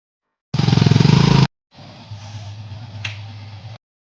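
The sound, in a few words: motorcycle engine running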